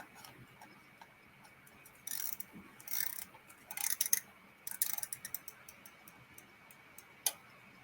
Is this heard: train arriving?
no